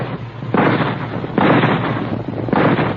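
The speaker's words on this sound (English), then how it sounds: "At the sound of the rifle shots, the frightened caribou raised their antlered heads and began to run." Rifle shots in an old radio drama set in the Yukon wilderness ring out as three loud, booming reports, each trailing into a long rumbling echo at a steady pace.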